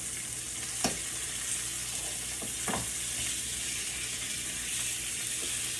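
Beef short ribs brown in a pan after being flipped, a continuous moderate sizzle with a few short scraping and clinking sounds from utensils, no talking.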